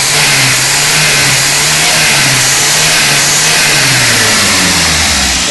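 A Volkswagen AP 1.6 carbureted car engine revs continuously and loudly from close by, its pitch rising and falling as the throttle is worked, with no voices.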